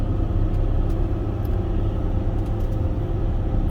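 A Mercedes Sprinter van cruising on a road near the Grand Canyon's North Rim makes a continuous low cabin rumble and road roar, steady and unbroken, with no voices.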